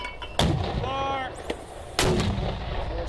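US Army troops fire artillery on command: two loud, booming blasts about a second and a half apart ring out close by, with voices shouting between the shots.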